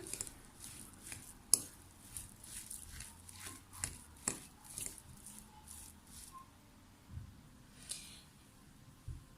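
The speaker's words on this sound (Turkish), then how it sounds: "Ve şimdi iç harcımı karıştırıyorum." A börek filling of homemade unsalted kashar cheese with added salt is stirred by hand, giving soft, irregular squishing and light tapping sounds, close but quiet, with no voices.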